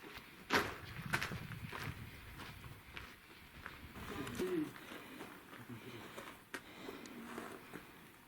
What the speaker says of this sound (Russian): Вон там, наверное, птички какие-то живут